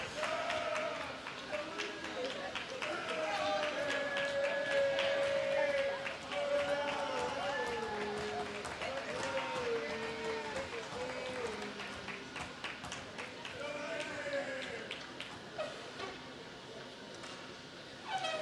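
A crowd of hockey fans cheers and applauds at a high school game at the final horn, a broad, steady roar of voices and clapping that fills the arena without letup.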